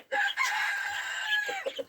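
An Amrock rooster clucks and calls briefly up close, a few short throaty notes in quick succession against quiet garden surroundings.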